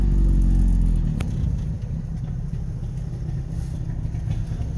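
Small two-stroke Subaru 360 car rolling into a gas station, a low rumbling engine that eases from a louder surge to a steady idle-like hum, close and alone.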